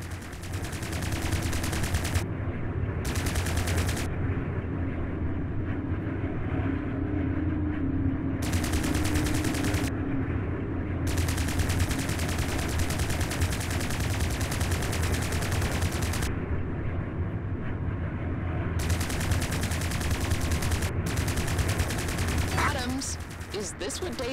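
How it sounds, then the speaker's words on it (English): Plasma cannons fire in Strike Suit Zero, a dense continuous barrage of rapid energy shots lasting the whole stretch over a steady roar of space combat. "Don't forget, plasma cannons drain weapons energy."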